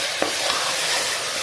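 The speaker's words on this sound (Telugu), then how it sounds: "ముందుగా మారినేట్ చేసుకున్న మటన్ అయితే వేసేసుకుంటున్నామండి. చూడండి, ఇప్పుడు ఆయిల్లో మంచిగా" Marinated mutton frying in hot oil for a Telangana-style curry, a steady continuous sizzle with a brief stirring clatter early on, close and fairly loud with no talk.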